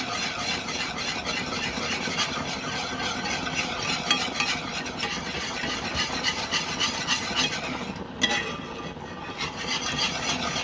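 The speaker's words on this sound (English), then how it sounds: "Still whisking." A whisk scrapes and stirs steadily through gravy in a pan as browning is mixed in for smothered pork chops, giving a continuous close rhythmic rasping with a brief louder clack near the end and no talking.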